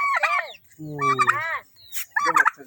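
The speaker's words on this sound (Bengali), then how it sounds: "বিভিন্ন রকম মুরগি এসে বসে থাকে" Fowl call out in three loud, close bursts, warbling and gobbling clucks with brief pauses between them.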